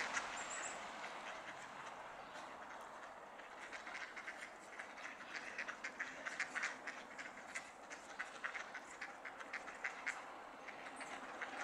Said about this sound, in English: They're my ducks.